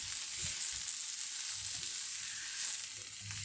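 Drumsticks and pumpkin sauté in a hot pan for a Kerala-style podi sambar, giving a steady close sizzle and frying crackle with faint stirring scrapes and no talk.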